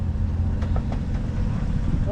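A Mazda Eunos Cosmo's engine idling close by, a low, steady, smooth rumble that holds even for two seconds, with a brief voice heard faintly over it.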